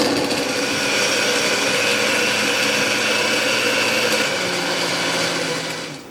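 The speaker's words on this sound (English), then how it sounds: "close on the blender, and blend it up nice and proper" A blender whirs loudly and steadily as it purees pumpkin with water for pumpkin rice, a constant high motor whine that runs unbroken and trails off at the very end.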